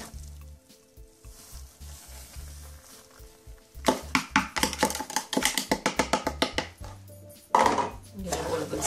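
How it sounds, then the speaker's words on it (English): Toasted semolina is stirred in ghee in a pan, the spoon scraping in quick rhythmic strokes over a soft sizzle, building louder and faster in the second half. "Give it all a good stir."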